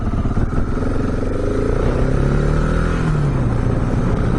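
KTM 690 dual sport motorcycle riding on pavement, a steady loud engine drone with rising and falling pitch as it rides through gears, continuous and close throughout.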